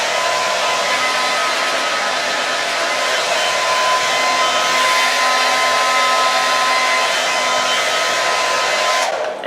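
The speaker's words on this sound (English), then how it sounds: "I'm gonna just shoot that with a blow dryer and dry it in" A hair dryer blows continuously at close range, a loud steady whoosh with a faint whine, cutting off abruptly at the end.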